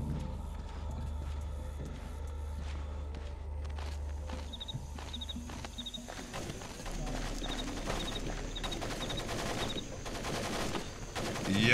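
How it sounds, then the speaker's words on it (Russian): Gunfire in the stealth video game Splinter Cell: Pandora Tomorrow, with bursts of shots mixed with footsteps and game ambience in a busy layered soundscape. "если вся эта стрельба скоро не прекратится"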